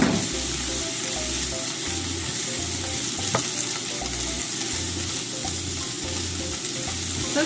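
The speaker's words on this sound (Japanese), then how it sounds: "そしたら今度は茹でたブロッコリーも加えて一緒に炒めます。" Boiled broccoli is stir-fried in a hot pan, giving a constant close sizzle and frying crackle with rhythmic scraping and stirring strokes throughout, and no talk over it.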